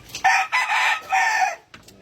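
A stag gamecock of a Gray Pakak brood line crows once, loud and close, a drawn-out call with a short broken tail and no talk over it.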